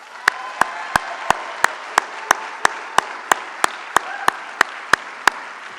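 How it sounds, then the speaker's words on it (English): An audience at a Drive for $15 rally stop in Kingston applauds labor supporters, a steady bed of crowd clapping punctuated by sharp, evenly spaced loud claps or clicks about three per second. "How about a round of applause, not only for George, but for all of our friends in labor?"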